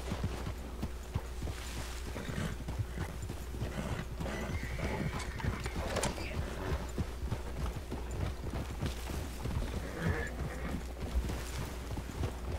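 A Campolina horse in the video game Red Dead Redemption 2 clip-clops along at a steady walk, hooves beating in an even rhythm over faint ambient background, with an occasional snort or whinny.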